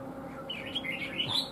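A red-whiskered bulbul, a trap-fighting bird, gives a few bright, fairly faint chirps over a low background hum.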